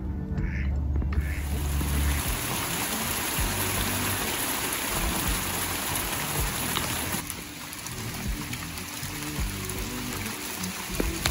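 Ducklings quacking outdoors in a steady noisy wash like rain or running water, with soft calls scattered throughout at moderate loudness and no talk.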